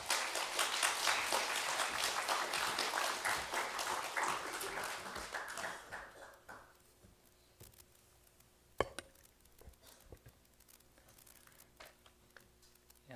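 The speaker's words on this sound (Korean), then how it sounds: "선교사님 나오실 때 박수로 환영하겠습니다" A church congregation at a Sunday worship service applauds to welcome a visiting missionary. Dense, steady clapping fills the room for several seconds, then fades to quiet with a single sharp knock.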